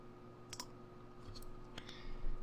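Faint clicking of computer keys as code is typed, a few scattered taps over a steady low electronic hum.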